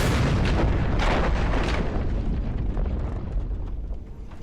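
A loud grenade explosion from a Just Cause 2 cutscene roars at full strength, then its heavy rumble slowly fades over a few seconds.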